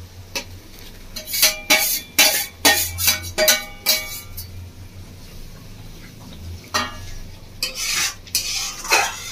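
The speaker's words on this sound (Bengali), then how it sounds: "ভেজে রাখা পটলগুলো দিয়ে একটু এইভাবে হালকা হাতে নাড়াচাড়া করে দেবো।" Fried pointed gourd stirred gently into a bubbling curd spice mix in a pan, giving a run of repeated spoon scrapes and clinks against the pan, moderately loud, with a soft simmer underneath and no talking.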